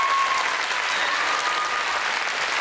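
Steady, dense applause from an evening audience at a Bain de Bretagne radio singing contest prize-giving, honoring the event's organizer; loud, even and continuous throughout.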